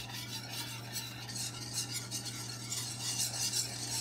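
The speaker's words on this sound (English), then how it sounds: "to that, as it's melting, I'm going to add 4 tablespoons of flour. And then we are just going to mix it in." Four tablespoons of flour get stirred into melting butter in a pot, a soft scraping of the spoon over a low sizzle and a steady hum, close by, with no voices.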